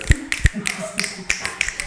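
Fingers snapping in a casual podcast setting, a handful of sharp, close clicks at an uneven rhythm with light tapping sounds between them.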